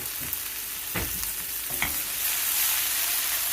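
Sliced leek frying in oil in a pan for an aubergine parmesan, a steady close sizzle with a few brief stirring scrapes and clatters.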